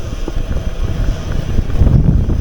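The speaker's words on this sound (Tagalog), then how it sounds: "Lakas pa rin ng hangin" Strong wind buffets a microphone during a long bike ride on a mountain descent via Dalton Pass, producing loud, continuous low-pitched roaring and gusting with no speech.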